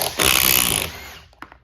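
An impact driver drives a structural screw into wood in a short, loud, close burst of buzzing hammering that stops abruptly, followed by a quiet pause and a small knock.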